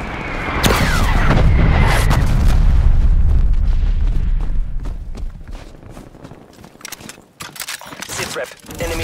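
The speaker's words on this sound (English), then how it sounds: "Artillery inbound." Artillery strike in Call of Duty Black Ops Cold War multiplayer on the Alpine map: loud, close booming explosions roll in one after another, then break into scattered crackling impacts and gunfire as the barrage fades.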